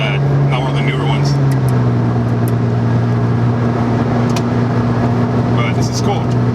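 A 2008 Porsche 997 911 Turbo with automatic gearbox accelerates hard, its engine a loud steady drone that drops in pitch at a shift, heard from inside the car with faint background noise.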